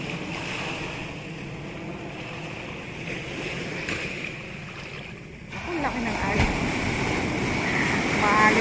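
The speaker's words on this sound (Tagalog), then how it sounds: "Ayan yung alon." Continuous rush of ocean surf on a beach with wind buffeting the microphone, swelling louder toward the end as a wave washes in.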